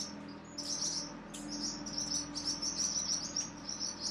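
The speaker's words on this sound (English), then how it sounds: "And some birds." Birds chirp outdoors around a reclaimed lumber yard, with high, faint, steady tweets over a soft background hum and no voices.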